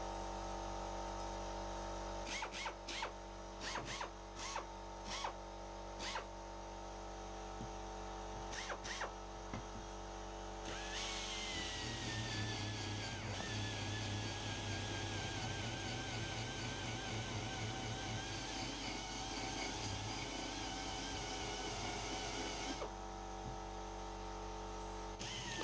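A Silverline 942944 pneumatic belt sander works a metal tube: several short bursts start and stop early on, then a long, loud, continuous air-driven whir and abrasive hiss holds before cutting off.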